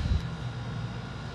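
A camera drone flying at a building construction site gives a steady, continuous low engine-like hum, moderately loud and unbroken, with no talking over it.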